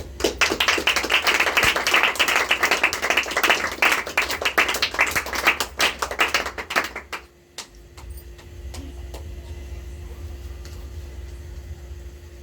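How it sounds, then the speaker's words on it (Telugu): A crowd of hands claps together loudly and close for about seven seconds, then stops abruptly, leaving only a low room hum. "చప్పట్లు కొట్టి"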